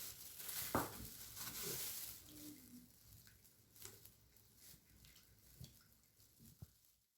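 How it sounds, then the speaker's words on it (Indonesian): Banana chips stirred in a pan while frying for chocolate banana crisps, with faint scraping and light sizzling, a louder clatter near the start, then quiet, sparse taps and scrapes. "Kita masukkan semuanya ya, lalu kita aduk"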